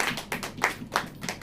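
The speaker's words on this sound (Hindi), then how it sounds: "ताली बजाओ" A church congregation at a Hindi sermon claps hands in a slow, even rhythm, about six distinct claps in a row, moderately near with no speech over them.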